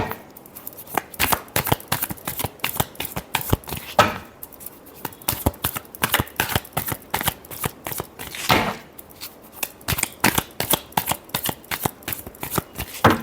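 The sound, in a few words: shuffling tarot cards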